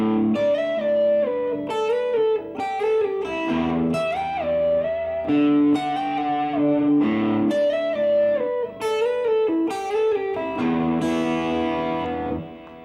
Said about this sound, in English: If you add a little bit of distortion, which I'm going to do right now, you'll notice you can get a little more sustain out of the note